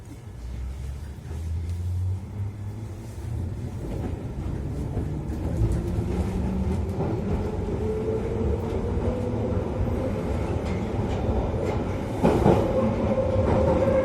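A London Underground Piccadilly line train running at speed, its steady loud rumble and wheel clatter filling the whole span, with a rising motor whine and a brief sharp screech near the end.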